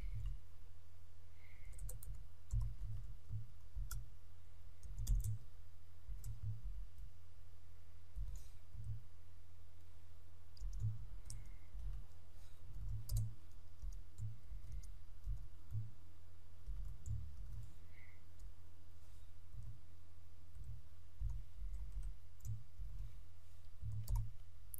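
Code typed on a computer keyboard, a quiet run of soft, uneven key clicks in bursts and pauses, steady and close, with no talk.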